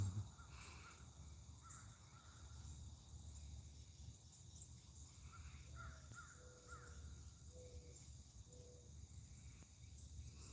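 Crows caw outdoors at a moderate distance, a few short calls spread across a steady background of insect buzz and faint ambient hiss, with no one talking.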